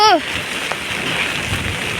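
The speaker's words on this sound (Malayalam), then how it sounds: "അത്ര മഴയാണ് കേട്ടോ" Heavy rain with wind pours down outdoors as a steady, dense hiss, with a brief voice at the very start.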